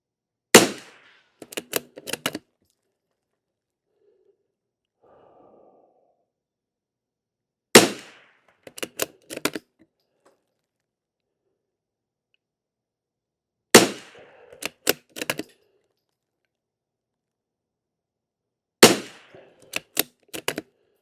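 A rifle fires CCI Standard Velocity rimfire rounds at a target in four well-spaced bursts, each a sharp crack followed by a few quicker shots, loud and close with silent gaps between.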